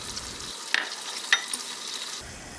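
Salmon and spinach cooking in a pan, a faint steady sizzle with two sharp clicks of a utensil early on.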